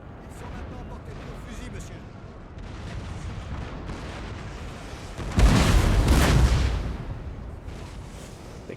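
Cannon artillery booming across a Napoleonic battlefield in the Napoleon: Total War strategy game, a steady rumble of distant fire that swells into a loud, close blast burst midway before settling back, with a voice talking over it.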